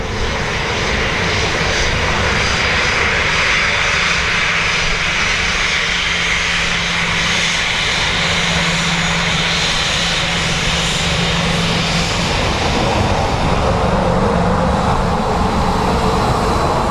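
An aircraft approaches Dublin Airport over Howth, a loud, continuous engine roar with a low droning hum that stays steady and close for the whole stretch.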